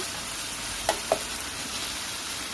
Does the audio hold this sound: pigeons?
no